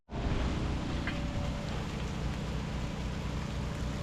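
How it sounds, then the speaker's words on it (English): Steady rain hissing down beside a Peterbilt truck under repair, a dense even wash of noise with a low rumble underneath, constant and close throughout. "It's raining now. Oh yeah, here comes the rain."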